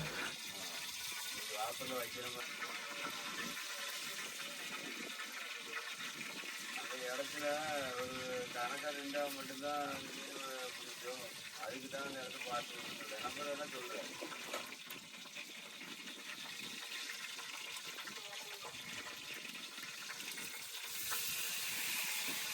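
Mustard seeds and urad dal crackling and sizzling in hot oil, cooked for a rock fish curry on a boat at sea, a steady hissing fry under ongoing talk with a constant rushing background.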